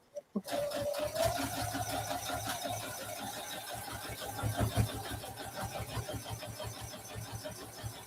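Electric sewing machine stitching a dog leash, a steady rapid mechanical whir with a rhythmic needle pulse running continuously at close range after a couple of brief clicks at the start, with no speech.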